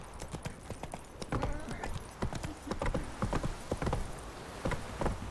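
Roach, Geralt's horse in The Witcher 3, gallops in a fast, steady drumming of hooves on ground, close and fairly loud, with no talk over it.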